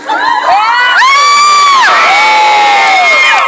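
A large crowd at Atlanta Motor Speedway cheers loudly, with high whoops and shouts swelling and holding, close and sustained with no talking over it.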